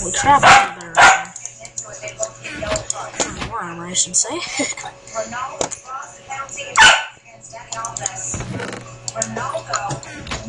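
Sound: dog barking

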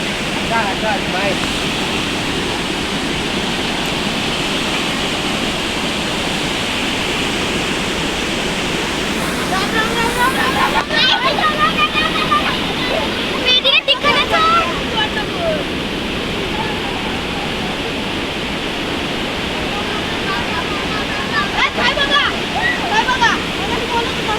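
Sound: Napne waterfall

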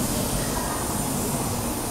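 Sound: Tokaido Shinkansen Nozomi train departing

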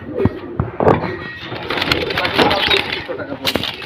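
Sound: parrots fluttering in cage

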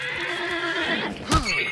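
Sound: horse neighing in a video game

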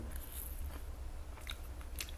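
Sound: biting and chewing a 24k gold-leaf waffle

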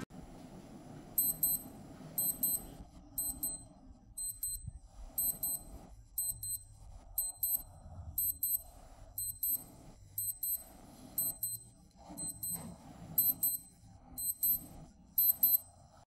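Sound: digital watch alarm beeping

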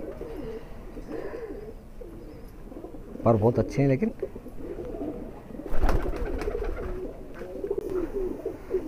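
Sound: high flyer pigeons cooing

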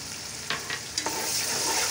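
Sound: ground green chilies frying in hot oil

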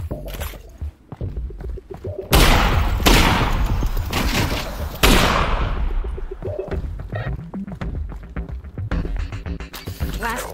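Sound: gunfire in video game Half-Life: Alyx

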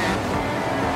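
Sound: Porsche hypercar engine in a racing video game

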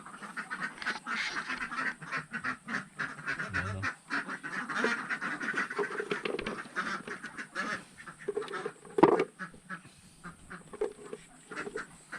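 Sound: domestic ducks quacking

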